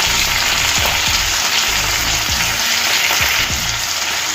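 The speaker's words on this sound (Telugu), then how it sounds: "ఇదంతా కూడా వేయించుకోవాలి" Chopped vegetables, tomato pieces, cashews and turmeric frying in a pan for a mixed vegetable curry, giving a steady close broadband sizzle with scattered scraping stir sounds and no talk.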